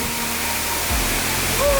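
Waterfall pouring hard nearby, a dense, loud, continuous roar of rushing water that fills the whole scene and swells slightly toward the end.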